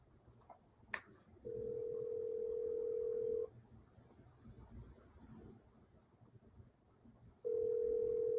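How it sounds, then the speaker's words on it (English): A phone call's ringback tone purrs steadily in a quiet room, one long ring, a pause, then the next ring beginning, faint and alone without speech. "Yeah, I'm calling. I'm calling right now."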